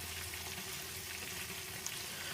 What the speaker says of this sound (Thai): ก็ทอดไปเช็คไปด้วยนะครับเพื่อนๆ